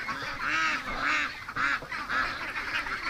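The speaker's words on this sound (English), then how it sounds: "Oh, little ducks." Young ducks about thirty days old give a run of four or five nasal, honking calls in quick succession, close and fairly clear, with no talking over them.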